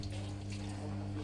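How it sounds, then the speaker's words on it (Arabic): A little water poured into a pot while cooking a Moroccan chicken and olive stew, a brief soft stream of liquid heard over a low steady hum. "غنزيد واحد شويه ديال الماء."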